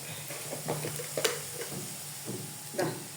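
Onion and spices with chicken masala sauté in a pan, giving a steady soft sizzle with intermittent scraping stirs, close and fairly quiet.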